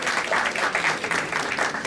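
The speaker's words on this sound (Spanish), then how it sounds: "Para él un fuerte aplauso" Audience at a university ceremony giving a strong round of applause for an honored guest, with steady, dense clapping that continues evenly from start to finish and no voices over it.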